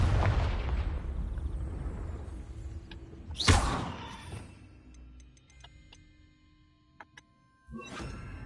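A Confringo blasting spell from Hogwarts Legacy bursts as a single loud explosion with a sharp crack and a short decaying rumble, set among quieter game ambience and faint clicks.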